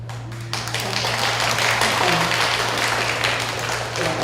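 Audience applause at an international Buddhist education conference, a broad steady wash of clapping that starts suddenly after a brief quiet moment and continues evenly, loud and close, with no talking over it.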